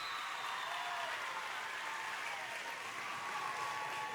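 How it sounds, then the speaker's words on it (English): A volleyball championship crowd cheers and applauds in a gym, a steady wash of clapping and distant voices held at moderate level throughout. "Sisters crowd starting to pick up a little bit."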